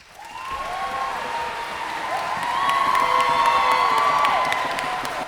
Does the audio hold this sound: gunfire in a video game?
no